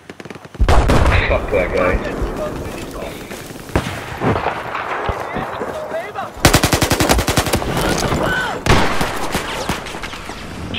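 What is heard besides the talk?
gunfire from enemy gunner in a video game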